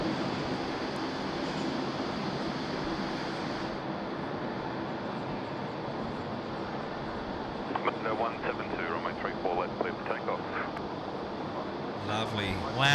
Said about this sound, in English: Qantas A330 coming in from Haneda, Tokyo